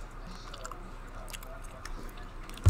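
Soft, wet chewing of a Sweet & Fiery peach Gushers fruit snack, close and quiet, with small squishy bites and smacking over a low background hum.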